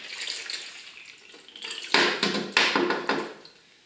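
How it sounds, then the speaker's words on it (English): Water draining out of a kitchen mixer tap during leak repair gushes and splashes in bursts, growing louder midway with a few sharp surges before trailing off, close by with no talking. "this is where we get a bit of water come out"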